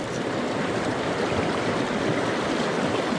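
A small mountain creek in the Beartooth Mountains of Wyoming flows close by with a steady, even rush of water, constant and moderately loud, with no talking.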